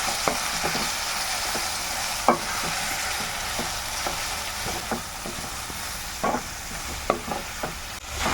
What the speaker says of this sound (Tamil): ஸோ இந்த நெய்லேயே வந்து நல்லா குக் பண்ணிக்கோங்க